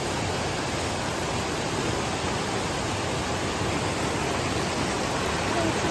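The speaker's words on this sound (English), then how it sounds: "Another creek crossing." Rushing creek water at a trail crossing, a loud, steady broadband roar of flowing water filling the whole stretch without a break or any voices.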